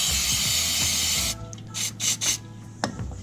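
A spray bottle of tire shine product hisses as it is sprayed onto a paper towel, one long continuous spray followed by several short bursts, close by with no talking.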